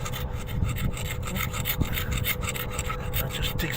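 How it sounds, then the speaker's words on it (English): Stiff-handled scraper dragged across rust pits on a boat's steel hull, a continuous coarse rasping grind with quick repeated strokes, close and fairly loud with no voices. "just scraping like this to try and take the top off"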